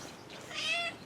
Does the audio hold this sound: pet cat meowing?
yes